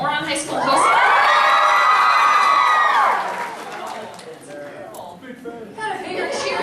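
A convention audience cheers loudly for a voice actress, a dense burst of high screams and whoops that swells, holds for about two seconds and fades into murmuring crowd chatter, with a brief renewed rise at the end.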